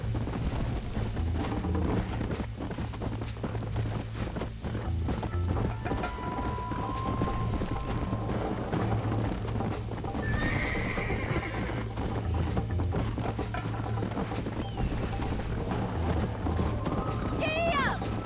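Rapid hoofbeats of a galloping horse in the video game Red Dead Redemption, with a couple of whinnies rising over the run, under a constant low game drone and occasional talk.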